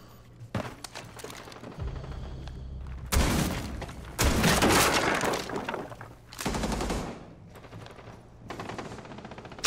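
Gunfire in a Rainbow Six: Siege match: loud bursts of automatic fire and single shots in bunches with brief gaps between them, close and dominant, with impacts and thuds mixed in.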